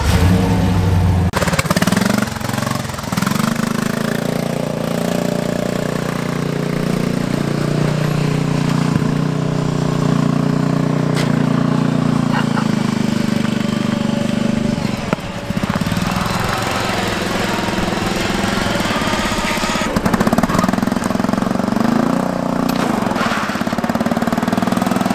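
Turbocharged riding lawn mower drag racing, its engine droning loud and near for the whole run, revving and surging with a rough mechanical clatter, a brief dip near the midpoint; no talk.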